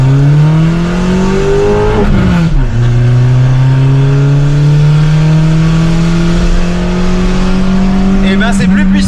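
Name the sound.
Peugeot 206 engine revving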